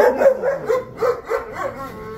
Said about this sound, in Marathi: ह्याच्यामध्ये आपले गावरान कुत्री पण आहेत आणि इंग्लिश जातीची पण कुत्री त्याच्यामध्ये आहेत